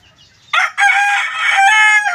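A McLean stag rooster crows loud and close in a cramped backyard, one drawn-out call cut by a brief break near the start.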